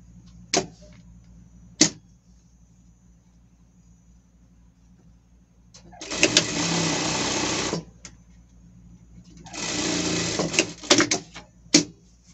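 A domestic sewing machine stitches a seam on a small elastic-trimmed pet summer outfit in two sustained whirring bursts of about two seconds each, close and clear, with a few sharp clicks and taps around them and no talk.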